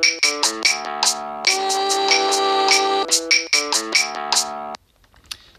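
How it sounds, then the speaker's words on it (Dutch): A chord sounds in music composition software, with short synth-like notes stepping in a bright, rhythmic pattern around a sustained chord in the middle, then a sudden cut to near silence. "En dit is een akkoord en dat klinkt heel anders."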